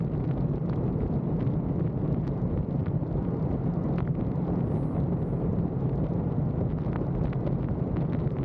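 A motorcycle cruising on the freeway in sixth gear at about 80 mph and 5,500 rpm, a constant loud roar of engine drone mixed with heavy wind buffeting on the microphone.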